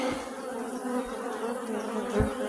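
A honeybee colony with two supers hums steadily at close range, a dense continuous buzz of many bees with no talking.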